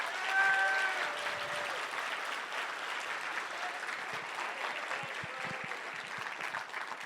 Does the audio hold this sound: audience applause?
yes